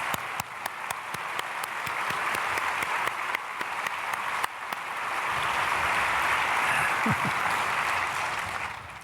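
A large church congregation at a Sunday service breaks into applause, a few sharp individual claps at first, then building into a broad, steady wash of clapping that fills the sanctuary.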